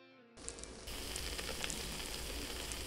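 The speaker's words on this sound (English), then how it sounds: "You can hear them sizzling in there." Plantain slices sizzle inside an Insignia air fryer, a steady dense crackling hiss that starts abruptly and stays loud and even throughout.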